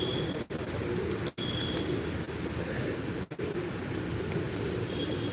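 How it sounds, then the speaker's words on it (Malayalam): Pigeons coo in a flock outdoors, the soft calls and occasional chirps sitting over a steady wash of background noise, moderately close and with no one speaking. "കുഞ്ഞിക്കുട്ടിയാണ് കേട്ടോ പ്രാവുകളുടെ കൂടെ ഓടണേ കേട്ടത്"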